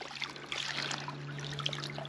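Water trickles from a garden hose into a pig wallow on a homestead on a warm day, a faint, steady splashing dribble with a low hum underneath and no talking.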